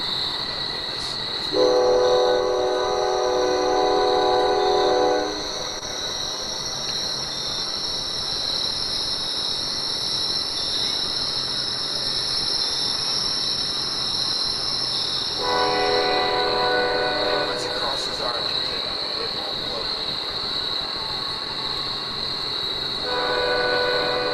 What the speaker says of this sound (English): The sound of the train will be good when you get to this point